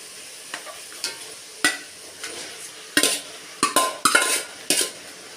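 Chicken coated in chilli, turmeric and coriander powders is stirred into sautéed tomatoes for a country-chicken rasam, giving a run of close, loud scraping stirs against the pan over a quiet sizzle, quickening toward the end with no talking.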